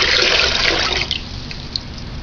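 A quart of water pours into a pot for making kombucha, a loud splashing gush that fades to a lighter trickle and settles within about two seconds.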